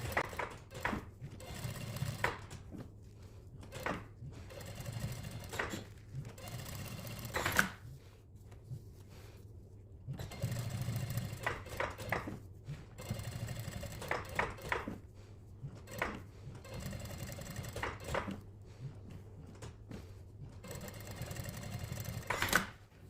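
A sewing machine stitches double rows along denim jacket seams in repeated short runs, a fast mechanical clatter that stops and starts, close and moderately loud, with quiet pauses between passes.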